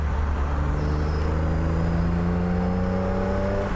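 A freshly restored BMW Z1 engine revs smoothly up toward 4000 rpm on light throttle, its tone climbing in a steady, loud drone heard up close and alone.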